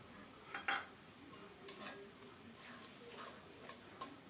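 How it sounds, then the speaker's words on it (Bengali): Masala with grated tomatoes is stirred in a pan for a fish curry, with a few soft scrapes and taps of a utensil against the pan spread over a quiet background. "ভালো করে নেড়ে চেড়ে খুব সুন্দর মতো মশলাটাকে কষিয়ে নিয়েছি"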